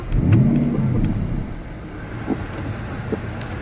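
A car pulls away with a low engine rumble that swells and then fades to a quieter drone, broken by a few small knocks and clicks.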